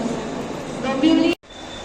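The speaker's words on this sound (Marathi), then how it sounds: "आता ट्रेन पकडतो मी" A moving train rumbles close by with a steady low roar and a rising tonal whine, then cuts off abruptly, with speech-like sound mixed in.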